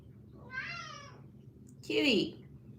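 A house cat gives two close meows, the second louder and more drawn out, over faint room background.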